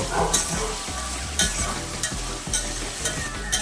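Eggplant pieces frying in hot oil, giving a steady close sizzle with regular scraping and stirring strokes of a spatula against the pan, no voices.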